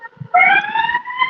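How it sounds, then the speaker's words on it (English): A brief siren wail rises and holds a steady, harmonic tone for about a second, loud and close, with faint background noise. "somebody's got a siren sound effect."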